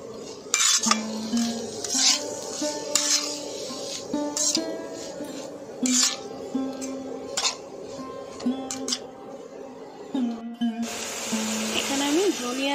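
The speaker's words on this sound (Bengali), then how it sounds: "এবার এগুলোকে ভালো করে ভাজতে হবে" Spices and salt fry in a pan for veg momo filling while a spoon scrapes and clinks against the metal, with bursts of hiss and intermittent stirring strokes, close by and moderately loud.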